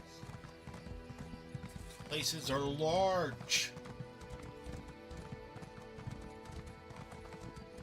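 Horse hooves clip-clop in a steady rhythm in the video game Elder Scrolls Online while a horse whinnies loudly partway through, and a voice speaks briefly over the hoofbeats.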